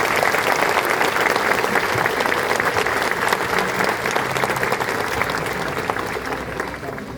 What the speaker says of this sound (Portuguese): Uma grande salva de palmas à palavra de Deus.